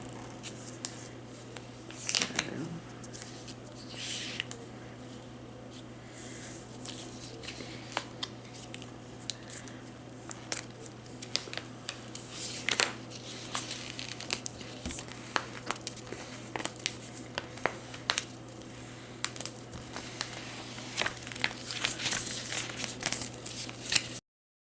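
Heat transfer vinyl being peeled and weeded for a Fourth of July shirt gives repeated crinkly peels and crackles over a steady low hum, with scattered sharp ticks and rustles throughout.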